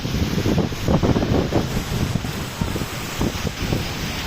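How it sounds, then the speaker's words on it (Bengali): Strong storm wind blowing over a river during a squall, a loud continuous roaring rush with buffeting gusts against the microphone, with no voices heard. "দেখেন দেখেন নদীতে কি পরিমাণ বাতাস বইতেছে।"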